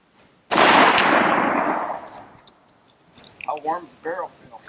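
A .375 H&H rifle fires a reduced load in one loud, sharp shot with a long decaying rumble, followed by a few brief clicks and low shuffling sounds.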